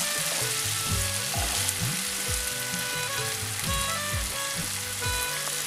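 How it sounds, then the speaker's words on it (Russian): Onions fry in a pan for an Indian samosa filling, with a steady, close sizzle and occasional stirring scrapes. No one speaks. "Лук обжариваю до золотистого цвета."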